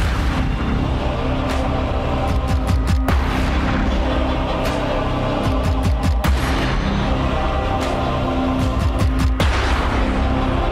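Gunshot sounds woven into a League of Legends champion theme, sharp sporadic bangs cutting through loud, dense orchestral music with heavy low percussion throughout.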